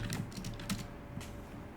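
A few quick keystrokes tap on a computer keyboard as a folder name is typed, close and light, in a brief irregular burst.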